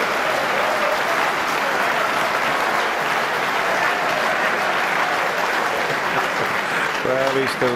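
A snooker audience gives sustained, even applause after a two-cushion escape shot, a steady clapping that fills the hall, with a voice speaking briefly at the end.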